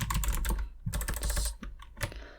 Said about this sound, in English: Let's type sudo make clean install.